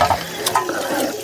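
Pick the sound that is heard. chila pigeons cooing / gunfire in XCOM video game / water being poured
water being poured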